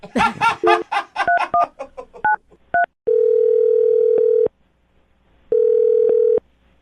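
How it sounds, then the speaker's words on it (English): A rapid run of telephone keypad tones beeps in quick succession, then a steady dial tone sounds twice in long bursts separated by a short silence. "I'm going to dial the phone number, get him on the phone"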